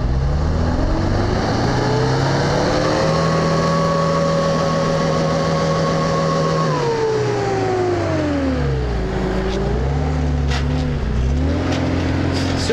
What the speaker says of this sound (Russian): вот сейчас ходом, смотрите, автомобиль пройдет.